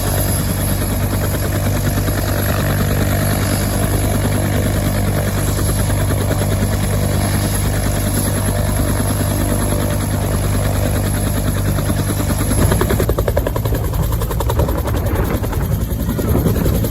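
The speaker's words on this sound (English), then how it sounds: "powering up with the distinctive whine of its Lycoming turboshaft engine" A helicopter with a Lycoming turboshaft engine runs loud and steady, its rotor thump and turbine whine continuous from start to finish and growing slightly rougher near the end.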